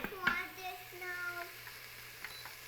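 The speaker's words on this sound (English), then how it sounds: "After we've sauteed up these veggies just a little bit" Vegetables sautéing in a pan for chili, a soft, low sizzle with a few light taps and stirring sounds, fairly quiet and steady.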